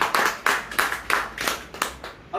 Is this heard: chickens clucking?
no